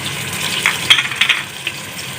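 Masala sizzling and frying in a pan for fish salan, a steady crackle with a few louder spits and pops close by, no talking.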